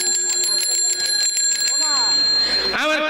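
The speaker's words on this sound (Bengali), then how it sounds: "এত করে কলিং বেল বাজাচ্ছি" An electric doorbell rings repeatedly in quick electronic chimes during a rural Gajon folk theatre performance, close and loud, with voices heard around it.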